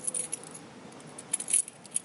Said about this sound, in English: I have my two sets of house keys hooked onto